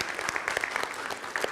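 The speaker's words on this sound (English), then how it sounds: "Let's give her a round of applause, you guys." Applause from a church congregation at a Scout Sunday service, a dense patter of many hands clapping steadily and fairly close for a short burst.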